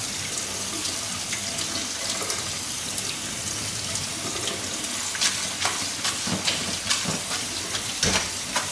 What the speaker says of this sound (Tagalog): Para hindi siya magdikit-dikit, hurasan natin kagad yung rice natin.